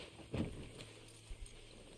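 Horse hooves clip-clop faintly in Red Dead Redemption 2, with a few soft, scattered thuds over quiet game ambience and no talking.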